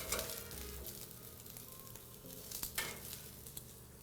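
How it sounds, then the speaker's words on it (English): Fresh vegetables sizzling on an outdoor grill, a continuous crackling hiss with scattered pops at moderate volume, no voices. "Hear that nice sizzle, which means it's starting to bring some of the liquid out of the veggies."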